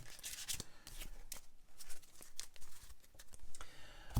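Cards for the Legendary Encounters Alien deck-building board game are shuffled by hand, close and quiet. Quick papery riffles and rubs come in uneven bursts, with no talking.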